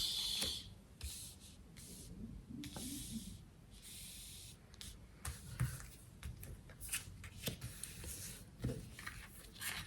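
A deck of fortune-telling cards is shuffled by hand close by, giving soft papery riffles and rustling bursts in an uneven rhythm with no talking.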